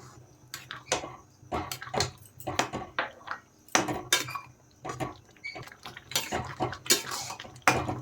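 A spoon stirs semolina cooking in a metal pot, scraping and clinking in quick irregular bursts, close and fairly quiet with no talk.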